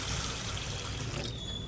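Water pouring into a bowl to rinse chana dal, a short steady gushing splash close by that thins toward the end, with no speech.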